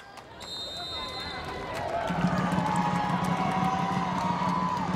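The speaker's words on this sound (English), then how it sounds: "You hear that crowd. This is a tremendous atmosphere." A large stadium crowd at a Washington Spirit versus Seattle Reign FC women's soccer match roars in a steady wash of cheering and whoops that swells louder partway through, with commentary under the noise.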